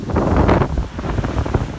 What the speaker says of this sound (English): These waves are the biggest I've ever seen here.